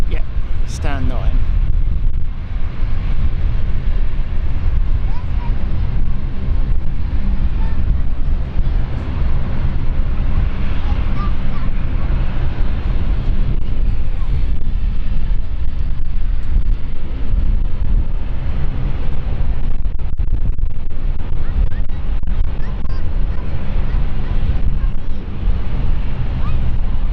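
Airliner engines at London City Airport, with the left engine spooling up while the right stays at idle, give a loud, steady low roar with wind-buffeted rumble throughout, swelling slightly without pause.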